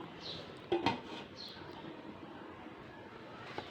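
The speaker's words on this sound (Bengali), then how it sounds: "এখন ঢাকনা দিয়ে ঢেকে দিব।" A metal lid clanks onto a cooking pot once with a brief double knock, followed by faint kitchen background sounds in a quiet room.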